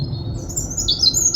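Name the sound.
robin singing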